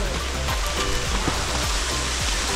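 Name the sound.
light drizzle rain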